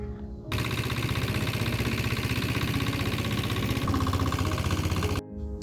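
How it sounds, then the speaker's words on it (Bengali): A shallow-engine boat motor on a river chugs loud and close in a fast, even rhythm, running steadily before cutting out briefly near the end. "এই যে এখন আমরা স্যালোতে করে যাইতেছি নৌকা কেনার উদ্দেশ্যে"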